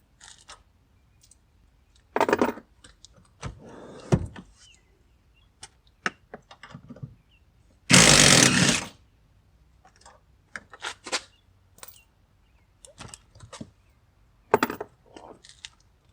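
A ratchet and hand tools remove the passenger seat bolts on a Ford Focus ST. Sharp clicks, knocks and one longer, louder burst of ratcheting are spaced through quiet gaps, heard up close with no voices.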